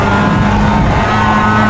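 A Mazda MX-5 in the iRacing sim held at its rev limiter around 7,500 rpm at Road Atlanta, a loud, steady buzzing engine drone with a constant pitch, no voice over it.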